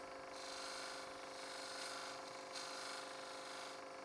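Skew chisel used flat as a scraper on a spinning wooden box on a lathe, working gently into an inside corner: a steady, continuous hiss and rasp with a broad airy texture, holding even for the whole stretch with no talk.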